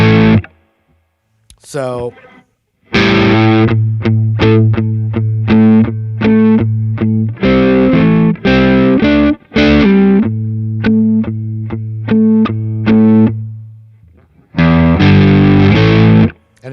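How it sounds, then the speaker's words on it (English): Distorted electric guitar plays power-chord riffs with major-chord moves, loud and close, in rhythmic bursts separated by short pauses; a brief spoken word comes before the riff. "So the next move is 3/5 power chords or eventual full major chord."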